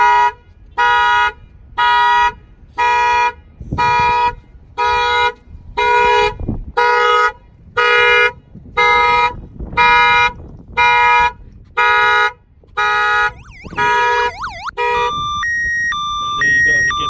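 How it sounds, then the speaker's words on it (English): A loud Nissan Maxima car alarm, set off by banging on the lock, blares in repeated on-off honking bursts, then shifts into a warbling siren pattern and a steady electronic tone. "The alarm will fire up."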